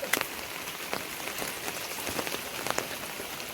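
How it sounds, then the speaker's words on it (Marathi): Steady heavy monsoon rain pattering on a surface in a village, with scattered louder drops tapping nearby over a continuous hiss. "इकडे बघा मित्रांनो संपूर्णपणे पाऊस"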